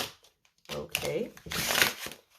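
A deck of tarot cards is shuffled in a few quick, papery riffling bursts separated by short pauses, up close and fairly quiet.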